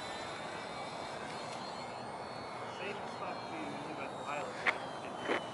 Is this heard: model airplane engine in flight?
yes